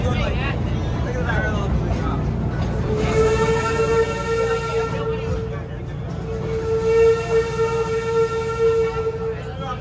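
Busch Gardens Williamsburg railway train running, a steady loud rumble and clatter throughout, joined from about three seconds by a sustained tonal whine, with a voice faintly audible in the mix.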